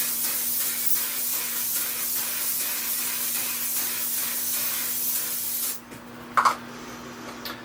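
Makeup setting spray hisses out in a long, close, continuous burst, then cuts off, followed by a couple of short, sharp spritzes.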